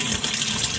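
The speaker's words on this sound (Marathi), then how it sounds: "हे बघा पाणी चालू झालेलं आहे" Water rushes steadily through an inlet pipe into a washing machine after the fitting is repaired, a continuous hissing gush at good pressure, close and unbroken for under a second.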